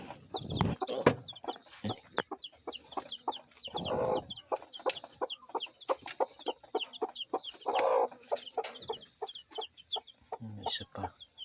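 Baby chicks in a backyard farm peep rapidly and continuously while being moved by hand into another box, with short bursts of rustling and handling noise between the shrill chirps.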